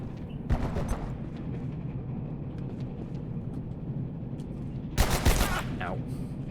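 Bursts of gunfire from bullets in the video game Abiotic Factor, with a sharp volley near the start and a louder cluster of shots around five seconds, over a steady background hum.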